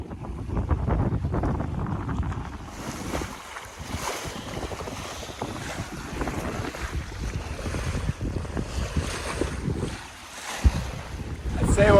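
A sailboat under way across a bay with the mainsail up, wind buffeting the microphone and waves washing against the hull in a steady, loud rush throughout.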